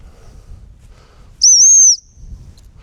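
A single shrill dog recall whistle blast in a woodland setting, one steady high tone of about half a second standing out loudly over faint background rustle.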